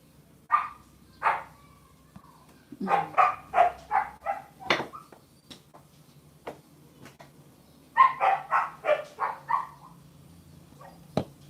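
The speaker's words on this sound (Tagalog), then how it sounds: "May dinaramdam yung aso namin kay maingay" A dog barks in two clustered bursts of sharp, rapid yips and barks, with short pauses between groups, fairly close and loud.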